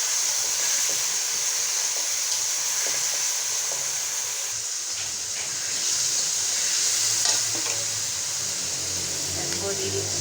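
Tomatoes, salt and chopped green chilies frying in a pan, a steady broadband sizzle and hiss that runs continuously and fairly close, with a slight swell near the middle.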